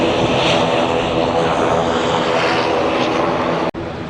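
Binter propeller plane taking off at Lanzarote airport, a loud, steady droning roar of props and engines close by, with a brief drop in level near the end.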